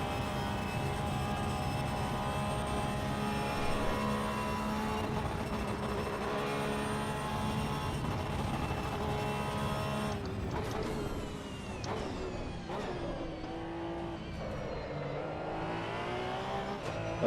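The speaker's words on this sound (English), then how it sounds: "6th gear, you'll hear the rev limiter." A car engine in the racing game Assetto Corsa EVO, held in sixth gear against the rev limiter, drones loudly and steadily, then stutters and bounces in pitch over the last several seconds.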